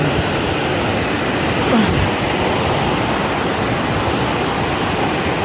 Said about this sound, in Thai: นี่คือน้ำตกผาเงือบ